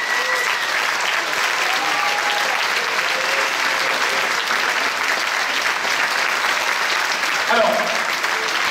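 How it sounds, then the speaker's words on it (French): Sustained audience applause fills the Grand Rex cinema at a film premiere, a dense, steady wash of clapping from a large crowd throughout, with faint voices mixed beneath it. "je crois qu'on peut déjà les applaudir tous, leur faire un triomphe, l'équipe du Petit Spirou."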